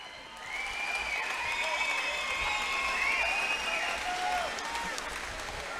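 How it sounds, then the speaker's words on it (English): Crowd applause for two fighters at the end of a five-round championship Muay Thai bout, a steady roar of clapping and cheering under a tonal whistle-like sweep, holding strong for several seconds. "Please give both fighters a big round of applause."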